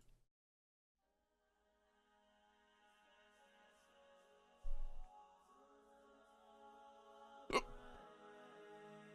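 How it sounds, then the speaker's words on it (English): A person hiccups twice, a low muffled hiccup and then a sharper one a few seconds later, while a metal song plays quietly in the background. "Just ignore these hiccups."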